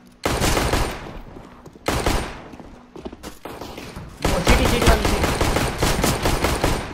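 Rapid bursts of automatic gunfire, loud and close, in several volleys separated by brief pauses, with a longer sustained burst at the end.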